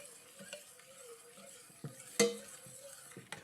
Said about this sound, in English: Keep stirring until you make sure you know everything is dissolved.